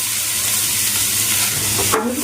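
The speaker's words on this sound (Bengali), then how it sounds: "এই পেঁয়াজ দুটো আগে আমি ভাজা করে নেব" Two small onions fry in a pan with a loud, steady close sizzle and crackle, stirred briefly near the end, no talking.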